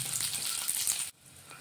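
Quarter cup of peanuts frying in hot oil over medium heat, a steady bright sizzle that cuts off abruptly, leaving a quieter low hiss.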